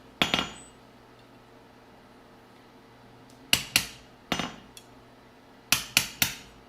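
Hammer blows on aluminum being forged into a bit, sharp ringing metallic strikes arriving in short pairs and clusters separated by quiet pauses, close and clear with no talk.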